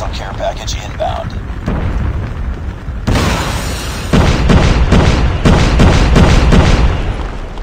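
A loud frag grenade explosion bursts in Call of Duty Mobile, a sharp boom followed by crackling, rumbling debris and several fainter thumps. Players' voices can be heard around it.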